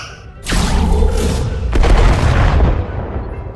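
Starship weapons fire during a space battle in the Star Trek Resurgence video game, two heavy booming blasts with a rumbling low roar that swells and lingers, loud and close.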